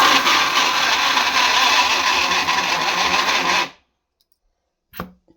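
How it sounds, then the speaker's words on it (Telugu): A kitchen mixer grinder whirs loudly and steadily while grinding green chillies with no water, then cuts off abruptly into silence, followed by a brief clunk of the jar. "చుక్క వాటర్ లేకుండా మిక్సీకి అయితే పట్టేసుకున్నాం"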